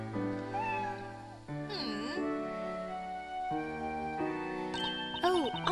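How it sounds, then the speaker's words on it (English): Small cat meowing in the Professor Layton vs. Phoenix Wright video game, a few short cute mews over steady game music with no talk. "It's such a cute cat."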